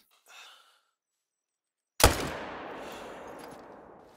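In theHunter: Call of the Wild, after a brief faint sound and a pause of silence, a single sharp hunting rifle shot cracks loudly, its echo trailing off slowly.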